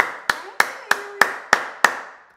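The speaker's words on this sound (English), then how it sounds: "Sorry, that was a loud clap." Six loud, sharp hand claps at a steady rhythm, close by during a livestream, each ringing briefly into a roomy echo, with a faint voice underneath.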